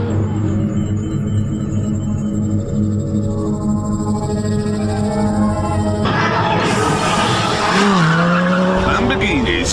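Ferrari F430 Spider and Lamborghini Gallardo Spyder convertible supercars, loud engine roar with gear-change pitch shifts, then a sharp rise into tyre squeal and revving near the end.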